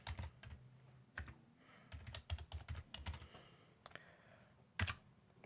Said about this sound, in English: So I'll put in my desired password, and you have to type it twice.